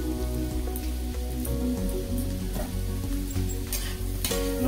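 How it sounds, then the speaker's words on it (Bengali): Chow mein noodles, already boiled and salted, fry in a pan with a steady, close sizzle and faint scraping stirs, no one talking. "নুনটা দিয়ে একটু ভালো করে ভেজে নেবো আমি"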